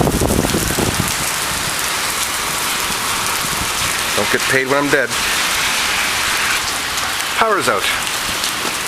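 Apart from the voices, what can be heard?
rain falling during a lightning storm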